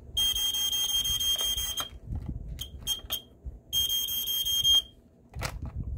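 A Gateway Scientific Smokey Stover 4001 smoke detector sounds its test alarm, a shrill piercing tone in two long bursts with short chirps between, loud and close over faint room noise.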